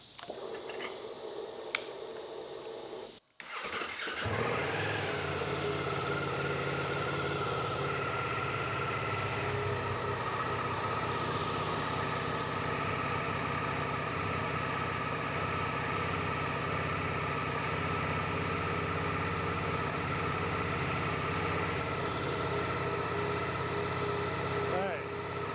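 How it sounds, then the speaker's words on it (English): A motorcycle engine starts indoors after a brief quiet pause, catching a few seconds in, then settles into a loud, steady idle with a constant hum that runs unbroken to the end. "It's probably going to ask me to start the bike, and when I do that it is going to get loud in here"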